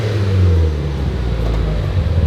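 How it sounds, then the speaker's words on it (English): A car engine revs in a steady, loud, close rumble that swells briefly and then settles into a sustained low drone. "Can you give it a rev?"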